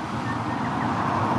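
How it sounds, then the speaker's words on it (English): Road traffic passing a roadside rest area near Kaikoura, New Zealand, a steady loud roar of a vehicle going by close to the road, with no break. "It's right next to the road, as you can hear."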